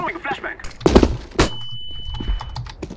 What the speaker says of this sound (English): I'm throwing a flashbang. Watch it.